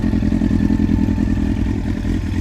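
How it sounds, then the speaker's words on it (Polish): A carburetted motorcycle engine idles close by, a steady throbbing pulse with a faint mechanical clatter, running alone without voices. "Sprawdźcie, jak ten motocykl brzmi."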